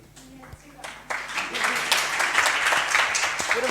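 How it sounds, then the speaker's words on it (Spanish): Audience applause at a festival talk on documentary, film and video games: clapping starts sparse and builds within about a second into steady, close, full applause that carries on to the end. "Había aplauso y todo"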